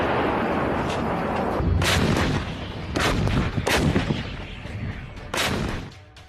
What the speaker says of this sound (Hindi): साल 2019 से वास्तविक नियंत्रण रेखा के पास बोफोर्स तोप तैनात है